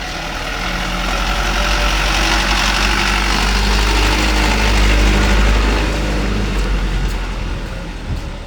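Vehicle engines idle and rumble on a waterlogged road in Khilgaon, Dhaka. A steady, fairly loud low drone with broadband traffic noise holds throughout, and no one speaks.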